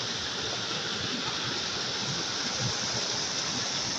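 Floodwater from heavy rain rushes through streams and gullies, carrying down trees and rocks. It makes a steady, dense roar of running water, unbroken and even throughout, with no voices.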